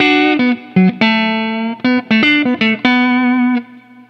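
Vox Bobcat hollowbody electric guitar on its neck pickup alone plays a short melodic phrase of clear, sustained single notes with slight overdrive, loud and close, with brief gaps between notes and no talking.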